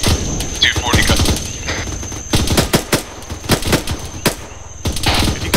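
In an ARMA 3 realism-unit operation, M240 machine guns fire at a low-flying helicopter, loud close bursts of rapid automatic fire repeating across the whole stretch, with a steady high tone running underneath.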